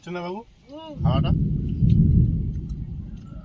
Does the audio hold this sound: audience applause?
no